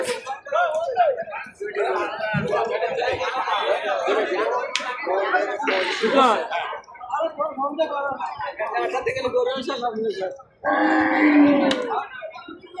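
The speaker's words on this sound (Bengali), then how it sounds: "সব আছে গরু, দুই পাশে গরু আছে" Cattle at a crowded Qurbani cow market in Gopalganj, with a low moo rising amid busy crowd chatter, nearby voices talking throughout and occasional claps or slaps.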